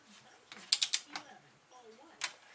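A torque wrench tightening engine bolts on a 660 Rhino top end: a quick burst of three sharp ratcheting clicks, a softer click after, then one more click near the end, close and fairly quiet with no talk.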